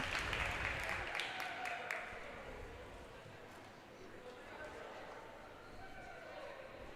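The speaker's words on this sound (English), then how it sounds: "We would have one last round of applause for our seniors" Applause in a high school gym for senior girls' volleyball players, faint and scattered, with a brief burst of clapping at the start that fades away within a couple of seconds under low voices and room murmur.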